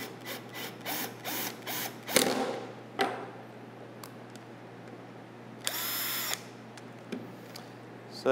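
A power drill backs screws out of a bow riser in short bursts, several quick whirring pulses followed by longer pauses and a final sustained run, close up and moderately loud over a steady background hum.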